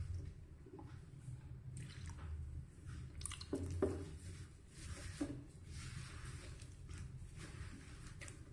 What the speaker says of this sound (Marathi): तर गरम पाणी थोडंसं करून घ्यायचं आणि हे असं मळून घ्यायचं.